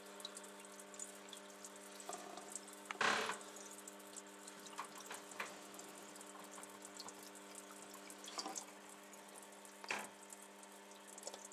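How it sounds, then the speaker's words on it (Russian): Water trickles steadily from a small fountain on an aquarium plant filter, with a faint continuous splash and occasional louder drips over a low humming background. "Часть ее идет на фонтанчик, а большая часть идет в емкость фитофильтра."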